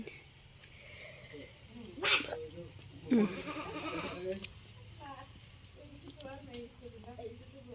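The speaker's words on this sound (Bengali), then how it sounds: "এটা ছাগলের গায়ে হাত দাও তো দেখি, তোমাকে ঢিস দেয় কিনা" A goat at a family gathering gives a couple of short, close bleats amid a rural yard scene, with people talking around it and other animal calls faintly in the background.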